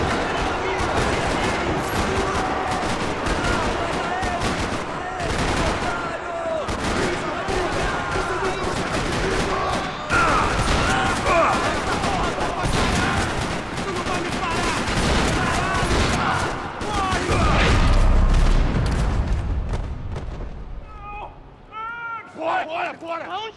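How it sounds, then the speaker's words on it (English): Sustained gunfire in a parking lot in Max Payne 3, dense rattling bursts of automatic weapons and shots layered with shouting voices and music, ending with a heavy low rumble and quieter tail. "Another parking lot rattling with gunfire."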